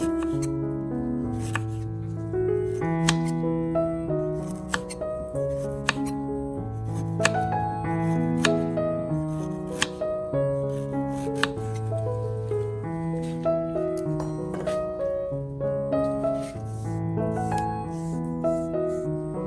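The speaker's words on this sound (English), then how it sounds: "and slice it into thin pieces" Repeated crisp cuts of a knife through ginger against a board, an even slicing rhythm over steady background music.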